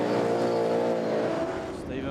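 Speedway race cars roar around a dirt track, a loud, steady engine drone with layered harmonic whine holding throughout, a commentator talking over the racing.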